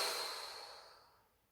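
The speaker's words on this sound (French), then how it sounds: "jetez toutes vos tensions en soufflant bien fort par la bouche" One forceful breath is blown out hard through the mouth, a close, airy whoosh that starts strong and fades gradually into silence over about a second and a half.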